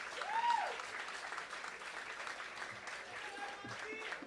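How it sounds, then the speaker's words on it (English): A gala audience at an independence award ceremony in Carriacou claps steadily for an honoree, moderately loud and sustained, with a whistle and scattered voices mixed into the applause. "Please give Ms. Trish Jack a round of applause."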